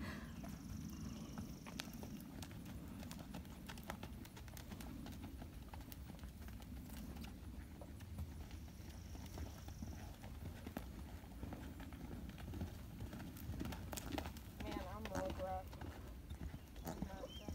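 A ridden horse's hooves clip-clop in a steady walking rhythm on a trail or arena, fairly close, with a brief whinny and people talking nearby in the background.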